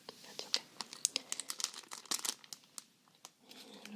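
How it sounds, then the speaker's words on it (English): Cheap aluminium foil on a cookie sheet crinkling close to the microphone in a quiet ASMR setting, with a series of soft irregular crackles and rustles and no voice. "So I have a cookie sheet with some foil"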